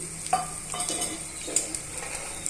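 Chopped onion pieces frying in a pan for a green chilli and peanut chutney, with a steady close sizzle and several scraping stirs of a spoon against the pan.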